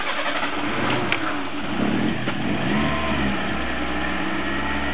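Toyota Corolla with a detonation problem starting up, then its engine settling into a steady low idle that hums continuously, with a faint click near the start.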